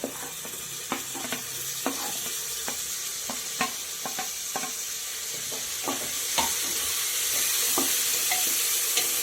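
Tomato, onion and garlic frying in a pan for egg biryani give a steady sizzle, broken by repeated sharp clicks and scrapes of a spoon stirring, with the hiss swelling louder toward the end.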